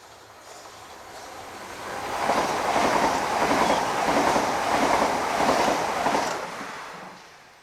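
A Class 395 electric passenger train passes in Kent, its rushing rumble swelling from a distance to a loud peak and then fading away, with a soft rhythmic clatter of wheels.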